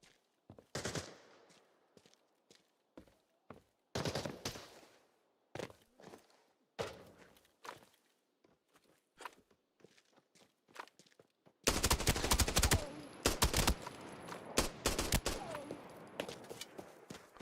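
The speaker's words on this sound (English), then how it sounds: "It's a suppressed sniper." Bursts of suppressed sniper rifle fire in a video game, sharp muffled cracks spaced several seconds apart among footsteps and thuds, followed near the end by a loud, dense stretch of rapid firing.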